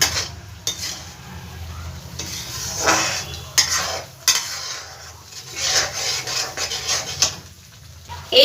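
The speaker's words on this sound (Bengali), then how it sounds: "এবার ভালো করে মশলার সাথে দইটাও আমি কষিয়ে নেব" Spices and yogurt are stirred and sautéed in a pan over low flame, with repeated scraping and rubbing of a spoon against the pan in irregular strokes and a quiet sizzle underneath, close up and fairly soft.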